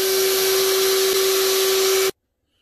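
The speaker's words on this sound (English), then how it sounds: "after you finish vacuuming it out" A vacuum cleaner runs steadily while cleaning out a Comfortbilt HP22N pellet stove, a loud, constant motor whine with a strong steady tone that cuts off abruptly near the end, leaving silence.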